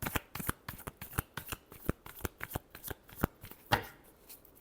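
A deck of tarot cards is shuffled by hand for an Aries reading, giving a steady run of close, crisp riffling snaps and slaps, with one sharper flick near the end and no talking.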